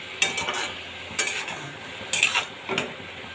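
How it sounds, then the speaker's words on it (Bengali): Turmeric is stirred into bottle gourd in a pan, with a spoon scraping and clinking against the metal in four short separate bursts over a faint background sizzle, no voices. "হলুদটাকে খুব ভালোভাবে মিশিয়ে দেবো"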